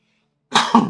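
A sudden sneeze bursts out after silence, a sharp explosive burst followed by a second short breathy push, fairly close and moderately loud.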